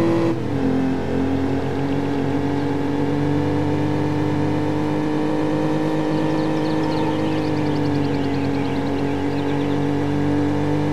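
Ferrari engine in the Need for Speed 4: High Stakes racing game, a loud steady high-revving drone that holds its pitch, dips slightly and climbs again with faint tyre or gear whine on top, with no voices over it.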